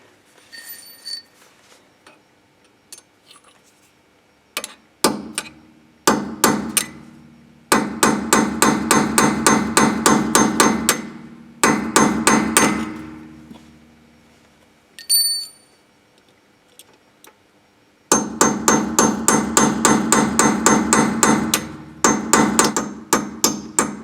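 A hammer reshapes a deformed nut on the rear brake of a Peugeot 307, ringing out metallically in loud, rapid bursts of blows separated by short pauses, with a few isolated strikes at the start.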